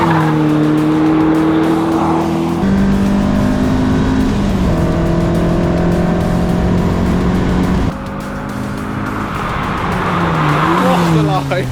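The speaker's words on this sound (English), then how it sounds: "the Lotus carries a load of speed through the final corner before flooring the throttle for the home straight" A Lotus sports car races on a track, its engine droning loud and close through the final corner with tyre squeal, then roaring as the throttle is floored down the home straight, pitch rising steadily through the gears.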